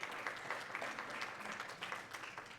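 An audience in a cathedral applauds steadily, a dense even clatter of many hands throughout, moderately loud with no voices standing out.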